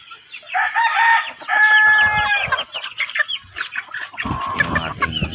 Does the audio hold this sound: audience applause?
no